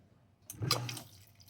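The main water pump of an indoor automated greenhouse is blipped on for about a second, sending out a brief gush and splash of flowing water that quickly dies away.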